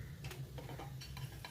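A tempering of hot oil with curry leaves, finely chopped garlic and red chilli powder sizzles softly, a faint crackle broken by a few quick ticks and light clinks close by.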